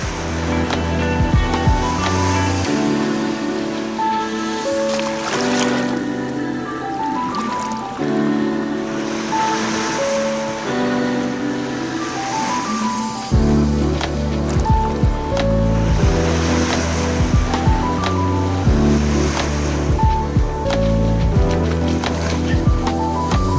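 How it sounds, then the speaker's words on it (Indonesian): Steady rushing surf with waves washing onto a beach at Nusa Biru, Pulau Banyak, Indonesia, loud and close, swelling stronger partway through with no voices. "suasana relaksasi dengan ditemani suara ombak"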